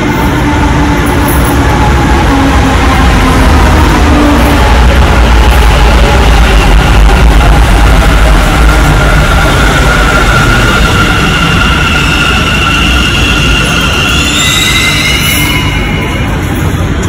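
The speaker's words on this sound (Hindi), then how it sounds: "सो फाइनली हमारी मेट्रो आ चुकी है जिसका हम वेट कर रहे थे।" A Bangalore metro train rumbles loudly into the station, wheels grinding with a steady roar and rising high-pitched squeals of brakes near the end.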